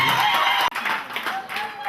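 A crowd at a Labour Day celebration applauds a medal winner with steady clapping and cheering. One brief gap breaks the applause, and a faint voice can be heard over it.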